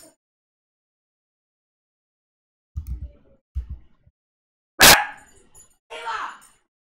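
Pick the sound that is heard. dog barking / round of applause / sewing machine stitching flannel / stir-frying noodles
dog barking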